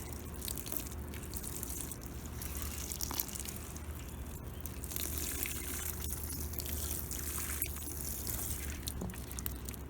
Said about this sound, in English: water in these strawberries, and it will sink through